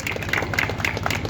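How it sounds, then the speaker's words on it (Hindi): An audience claps at a village panchayat development meeting, a short burst of scattered, moderately loud hand claps from a small crowd, with a voice faintly underneath. "ताली बजा लो भैया"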